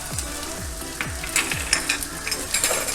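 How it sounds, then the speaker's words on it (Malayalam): Spice powders, including pepper and turmeric, frying in a pan as they are stirred for a Trivandrum-style vada koottukari, with steady sizzling and repeated scraping strokes of a spoon against the pan. "ഇത് ആഡ് ചെയ്ത് ഈ പൊടിയുടെയൊക്കെ പച്ചമണം മാറുന്നവരെ നന്നായിട്ട് ഇളക്കി കൊടുക്കാം."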